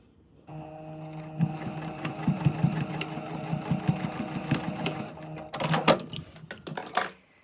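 A sewing machine stitches across invisible zipper tape to tack it down, a rapid close-up whirring and clatter of the needle that speeds and slows in short bursts, then stops with a few final clunks.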